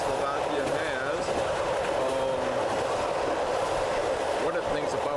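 A Czechoslovak super express train rolls past near Poprad Tatry in the High Tatras, a loud continuous rumble with wheel clatter and brief squeals throughout.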